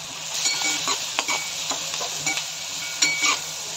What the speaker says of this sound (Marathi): याच्यामध्ये आपण भाजी टाकून घेऊया। कांदा, गाजर आणि शिमला मिरची या सगळ्या टाकावं।